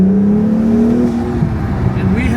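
A Honda NSX or Civic Type R accelerates hard through the gears in a drag race, its engine a loud, continuous drone that climbs steadily in pitch with a shift near the end.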